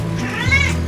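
A single close, clear meow from a cat in an animal shelter cat room, rising and falling over under a second with a low hum underneath.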